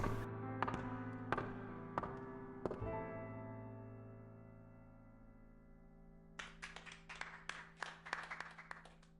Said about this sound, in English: Two claps.